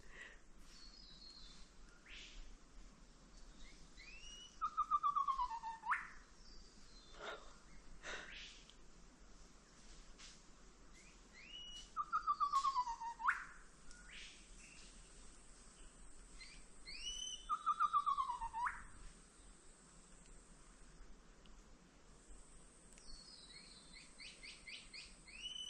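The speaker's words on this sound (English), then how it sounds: "Can hear a few more beautiful bird noises." Birds calling along the Regeneration Trail at Lake Tinaroo in Far North Queensland, with three bursts of clear, sweeping, descending calls spaced several seconds apart over a quiet, faintly buzzing bush backdrop.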